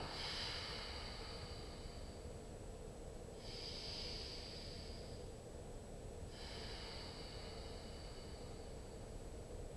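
Deep breaths during a basic core exercise, three long, airy, hissing breaths evenly spaced over steady background noise, fairly faint and close.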